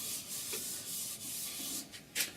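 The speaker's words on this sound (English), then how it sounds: "Now I'll stop the lathe and I'm going to use my tack cloth. This is to get rid of any fine dust particles" A tack cloth wipes fine dust off sanded wood on a stopped lathe, giving soft, close rubbing strokes with a brief louder swipe near the end.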